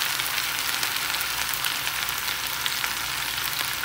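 Chicken sautéing in butter in a pan gives off a steady, close, even sizzle and hiss that lasts the whole stretch with no voices over it.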